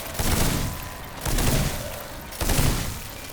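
Gunfire in the video game Steelrising: three muffled booming shots land roughly a second apart, each a short broadband burst followed by a fading rumble, at moderate level.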